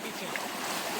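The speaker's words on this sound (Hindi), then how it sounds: "भाई बहुत फ्लो है, बहुत पानी है।" Steady rushing roar of a fast-flowing river in the Uttarakhand hills, heard up close at the bank as an even, broadband wash with no clear breaks.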